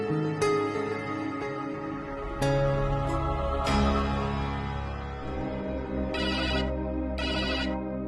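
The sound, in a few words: mobile phone ringtone, mother calling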